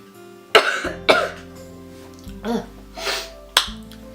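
Several sharp, close coughs in quick bursts, spaced unevenly over a few seconds.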